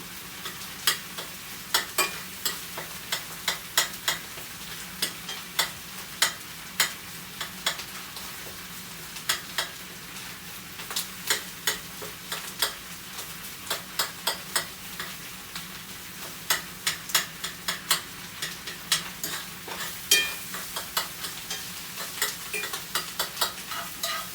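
Corned beef frying in butter in a pan for hash, with a steady close sizzle under repeated sharp scrapes and taps as it is stirred and broken up; no talking.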